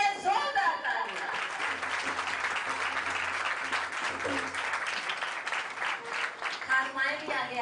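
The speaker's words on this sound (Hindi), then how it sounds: "यीशु मसीह के लिए जोरदार तालियां।" A church congregation bursts into sustained applause, dense clapping filling the room steadily for several seconds with a few voices mixed in.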